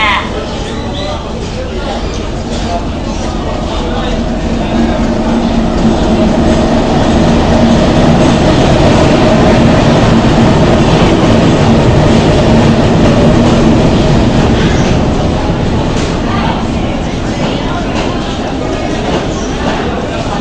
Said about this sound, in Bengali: ট্রেন চলে আসলো